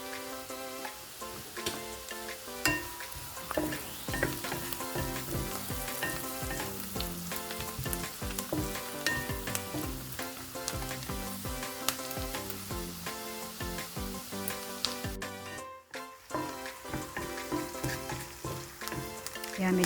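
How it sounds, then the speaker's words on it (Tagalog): Onion sizzles steadily in a hot pan with a pinch of salt, a constant frying hiss running beneath loud background music, with a brief dropout near the end. "Lagyan natin ng konting salt ang ating onion habang ginigisa natin para magkaroon na siya ng kaunting lasa."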